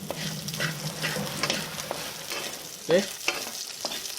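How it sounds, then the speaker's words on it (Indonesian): Garlic frying in a pan for village-style spaghetti, a steady sizzle with repeated spatula scrapes and stirring clinks, close and moderately loud, with a brief spoken word near the start. "kita tumis sampai garing ya Tempinay"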